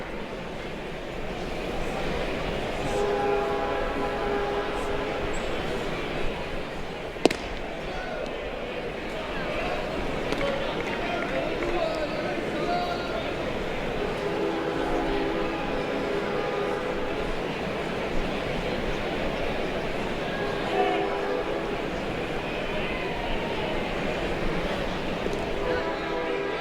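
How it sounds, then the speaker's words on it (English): Train passing in the background near a college baseball field during an LSU versus Xavier game, a low distant rumble with faint rhythmic rail clatter running under continuous play-by-play commentary. "perhaps you can hear the train in the background"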